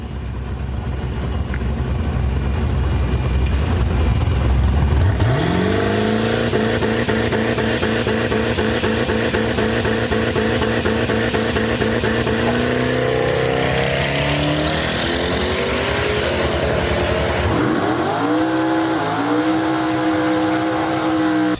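A 700 HP Mazda RX-7 drag car holds on the trans brake to build boost, its rotary engine droning loud and close, then rising in a long climbing pull before dropping and revving up again.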